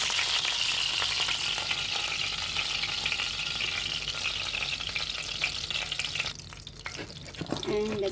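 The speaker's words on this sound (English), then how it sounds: "The frying time is about 2 minutes for each side." Rabbitfish fries in a pan with a loud, steady sizzle and crackle of hot oil, ending with a brief clatter and scrape.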